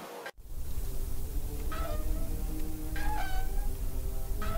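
A cartoon cat meows a few times over a steady background music bed in the Deponia Doomsday point-and-click adventure game, with short rising calls spread across the scene.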